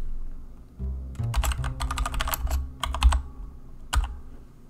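Computer keyboard typing a file name, bursts of crisp close keystrokes in a few quick clusters with a low hum underneath, no speech.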